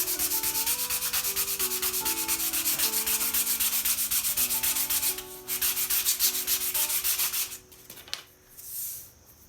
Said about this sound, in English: Hopefully you can hear me over sanding